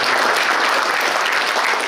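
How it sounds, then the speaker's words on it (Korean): Audience at a Korean veterans' association leadership ceremony breaks into dense, loud, continuous applause, many hands clapping close together for a brief burst. "일단 박수 쳐주십시오"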